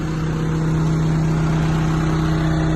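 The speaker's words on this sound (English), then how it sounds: "Right here, that's your air compressor." An air compressor running on an Elkin concrete mixer: a steady loud engine-like drone with a strong low hum, continuous and unchanging throughout, no talk.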